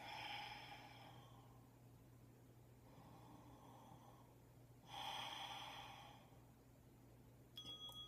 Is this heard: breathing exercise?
yes